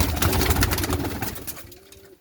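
Pigeons just let out coo close by, a low wavering call rising above a busy, noisy background that fades toward the end.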